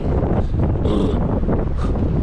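Strong Canadian winter wind buffets the microphone with a constant low roar and rumble, steady throughout with brief hissing gusts.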